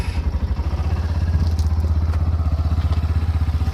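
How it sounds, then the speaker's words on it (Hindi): A Hero Glamour X motorcycle engine idles close by with a steady, fast, even thumping beat, running alone without voices. "तो चालू करते हैं बाइक को।"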